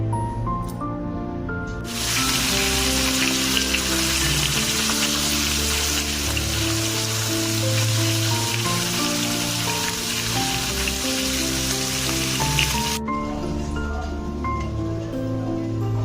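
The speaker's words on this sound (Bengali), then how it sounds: "মাছের মাথাগুলোকে ভালো করে ভাজবো, তারপর আলুগুলোকে ভাজবো, তারপর চালটাকে ভালো করে ভেজে নেব।" Fish heads, potatoes and rice fry in oil in a pan, a loud dense sizzle that starts abruptly and runs about eleven seconds before cutting off, with tonal background music throughout.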